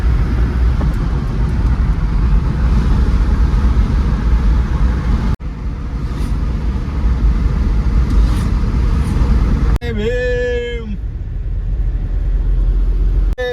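A car cruising on a highway between Pune and Bangalore, with a loud, steady road rumble and tyre noise close inside the cabin, briefly interrupted near the end by a short melodic tone.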